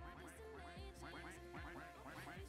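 Cartoonish duck quacks from the Roblox game Duck Army pile up in a rapid, overlapping chorus, many birds quacking at once in a busy, continuous stream.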